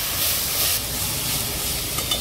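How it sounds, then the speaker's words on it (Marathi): Corn masala and vegetables frying in a pan for soup, a steady close sizzle with stirring scrapes throughout, no one talking. "हे सगळं असं फ्राय करून घ्यायचं"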